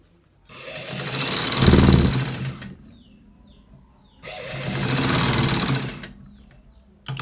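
A sewing machine stitches a shirt collar in two sustained loud runs of rapid mechanical whirring, separated by a brief quiet pause, close up with no talk.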